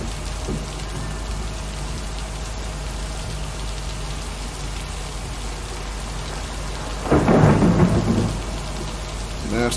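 A heavy thunderstorm in a video game's wood area plays as steady, dense rain throughout, with a louder rumble of thunder swelling about two thirds of the way through before easing back.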